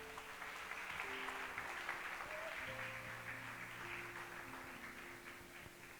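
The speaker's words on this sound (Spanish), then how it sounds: "Denle un fuerte aplauso al Señor." A church congregation applauds steadily for several seconds, a dense, even wash of clapping heard from a distance at moderate volume, with faint sustained organ or keyboard tones underneath.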